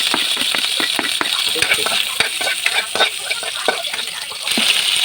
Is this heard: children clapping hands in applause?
no